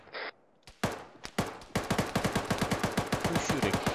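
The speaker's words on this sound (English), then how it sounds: "Who's shooting?" Gunfire in a military shooter game: a few separate single shots, then a steady rapid burst of automatic fire, close and loud with a sharp, even rhythm, no talking.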